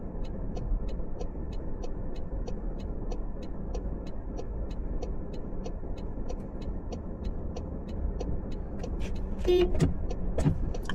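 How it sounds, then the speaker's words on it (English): A car engine idles with a steady rhythmic ticking, then a short car horn honk sounds near the end. "I honk it because the light is green."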